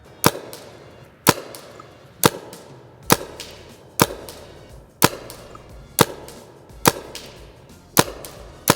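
A paintball gun fires frozen paintballs, about nine sharp, loud pops evenly spaced roughly a second apart, each with a short ringing tail. No one speaks.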